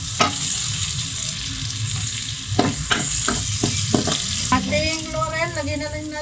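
Onion and ginger stirred and frying in a pan for chicken adobo, a steady sizzle throughout with several sharp scraping knocks of the spoon against the pan near the middle; a faint voice or whistle-like tone near the end.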